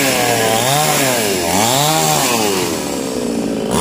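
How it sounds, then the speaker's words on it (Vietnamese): A chainsaw roars close by, its engine pitch rising and falling as it bites into a small coconut tree trunk, loud and continuous throughout. "Thu đi theo trang của anh Tùng để xem anh Tùng cưa mấy cây dừa."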